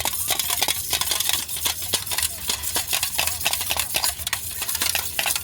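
A spoon stirs sugar into a bread-omelette mixture in a bowl, scraping and clinking in a quick, steady rhythm that is close and continuous, with no talk.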